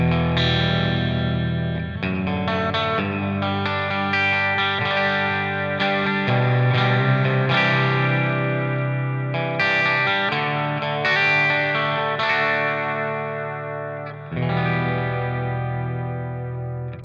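Electric guitar run through a hybrid pedalboard into a Tweed 112 amp, playing continuous chords and melodic lines with a warm, slightly driven tone, chorus-like shimmer and light echo, loud and sustained throughout with no talk.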